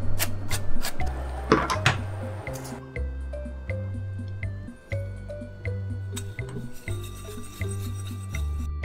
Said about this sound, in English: you're gonna remove most of the bones when you scrape the fillet with the spoon